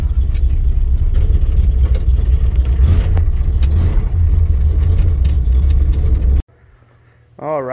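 A truck engine fitted with a brand-new 600 Holley carburetor runs close by with a steady, loud low rumble, then cuts off abruptly near the end, leaving a short quiet gap and a brief warbling sound.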